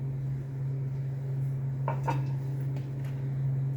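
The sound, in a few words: frying pan placed on stove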